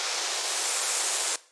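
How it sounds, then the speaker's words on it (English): A white noise riser in a house music track sweeps as a dense, bright hiss that holds steady and loud, then cuts off abruptly near the end. "And then on top of that, a white noise."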